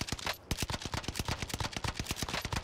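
Rapid automatic gunfire in Fortnite, a continuous stream of loud, evenly spaced shots with barely any pause.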